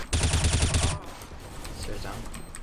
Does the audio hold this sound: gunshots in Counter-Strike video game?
yes